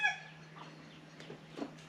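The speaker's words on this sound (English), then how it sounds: "If I keep getting interrupted by chickens, we're going to have chicken for dinner" Chickens on an Oklahoma goat farm give a few soft, faint clucks, with a brief burst at the start and scattered quiet clucks after it, heard alone in a hushed setting.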